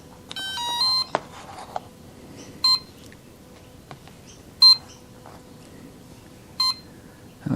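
An electronic speed controller on an ExpressLRS-equipped model beeps after power is applied: an initial rising run of tones, then single short beeps repeating roughly every two seconds, clear and close over faint background hiss.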